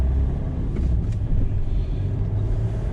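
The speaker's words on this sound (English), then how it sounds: "You see the blue car coming, so I'm going to just time my check so they go past" A blue car drives past on the road beside a car parked on the right, a steady low engine rumble and tyre noise filling the few seconds, with no clear rise or fade.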